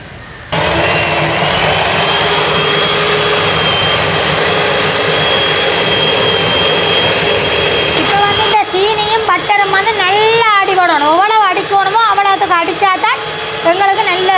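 A steady, loud electric cake mixer whir beating butter and sugar runs throughout; partway through, voices talk over the continuous droning hum.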